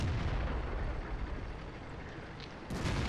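Artillery fire in the tank game World of Tanks, a deep, rumbling boom that fills the clip, with a second blast near the end.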